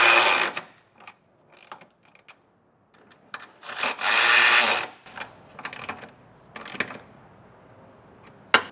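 Short whirring bursts from a power tool driving trailer hitch bolts on a 2022 Hyundai Tucson, with one longer run in the middle and scattered clicks and handling noises between.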